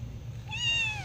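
A single drawn-out cat meow, clear and fairly close, rising then slowly falling over about half a second, with a low steady hum underneath.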